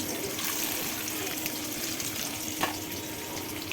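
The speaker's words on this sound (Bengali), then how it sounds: "সেখানে আমি তেল দিয়ে দিছি, এখন আমি পেঁয়াজ দেব চিংড়ি মাছ বোনা করার জন্য" Chopped onions frying in hot oil in a pan for a prawn dish, a steady, dense crackling sizzle that stays even throughout, close and moderately loud with one small utensil knock.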